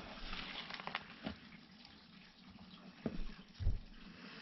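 Running water from laundry rushes through household pipes, a faint continuous flow with occasional louder gushes and knocks.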